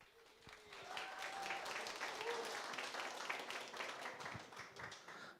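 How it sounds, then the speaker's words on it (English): A small conference audience claps steadily for several seconds at a tech talk, a soft, even patter of hands heard from within the room, with no voices over it. "So, give a clap to Roman Schejbal."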